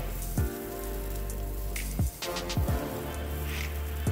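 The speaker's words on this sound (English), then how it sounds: "We're going to saute the onions. There's the oil." Onions sautéing in hot oil for adobong sitaw give a steady, close crackling sizzle, broken by a few sharp clunks and sweeping tones in the background.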